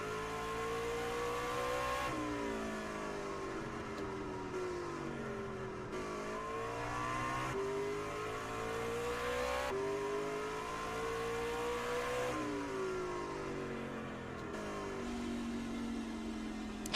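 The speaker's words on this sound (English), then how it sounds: "'24 definitely going through the gears here" A pickup truck racing at Martinsville climbs through the gears, the engine note rising and then dropping at each shift over and over. It sounds steady and moderately close, with no talk over it.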